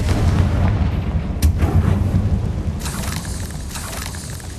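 Confringo blasting-spell explosion in the Hogwarts Legacy video game, a dense rumbling boom with crackling debris that rolls continuously and stays loud throughout, with a few brighter bursts layered on top.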